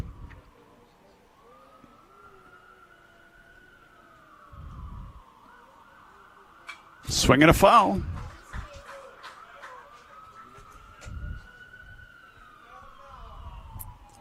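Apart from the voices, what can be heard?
ambulance siren passing nearby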